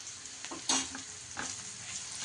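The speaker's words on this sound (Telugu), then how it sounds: "ఈ అల్లం వెల్లుల్లి పేస్ట్ కూడా పచ్చివాసన పోయాక వేయించుకోవాలా" Ginger garlic paste frying in a pan for egg masala curry, a steady soft sizzle with a few scraping stir strokes and a sharper clatter near the start, close and moderately quiet, no talking.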